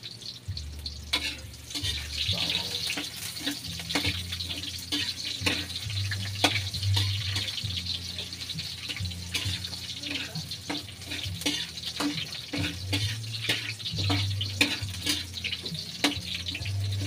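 Garlic frying in a pan with steady sizzling and clattering stirring throughout, close and fairly loud, with no talk.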